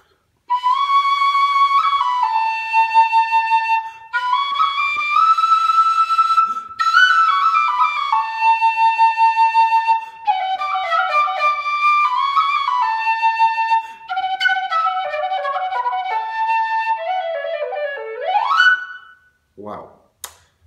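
A Shearwater alto A whistle plays a series of high, bright sustained notes with rich overtones, ending in a rising slide and a quick drop.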